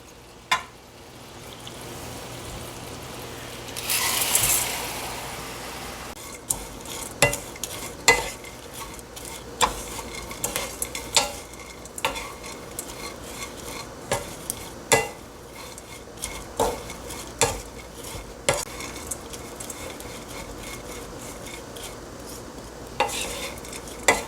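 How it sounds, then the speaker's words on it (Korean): Anchovies and almonds are stirred into a bubbling seasoning sauce in a pan over low heat, with a steady soft sizzle and repeated scraping clicks of a utensil against the pan, close and without talk. "그리고 볶아뒀던 멸치랑 아몬드 넣고 예, 버무리도록 하겠습니다"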